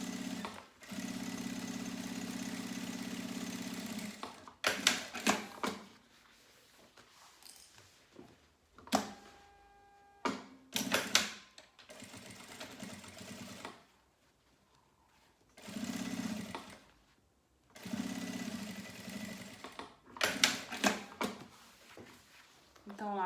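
A sewing machine set to a 3.5 stitch runs along the edge of a fabric pouch in bursts, its steady motor hum starting and stopping several times with quiet pauses between runs; no talking.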